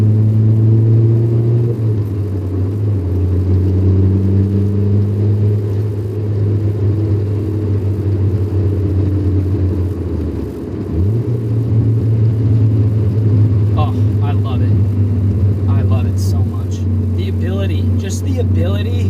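3rd gen Honda Prelude swapped from automatic to manual, cruising on the street: a loud, steady engine drone with road rumble and a brief dip in revs partway through, heard from inside the car.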